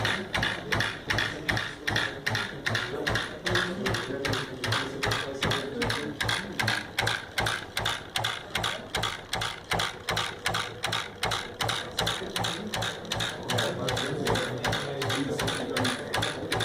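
A homemade electrotechnical machine built from the back of a loudspeaker, a limit switch and wood runs with a fast, steady mechanical ratcheting click, loud and close, repeating evenly throughout with no voices.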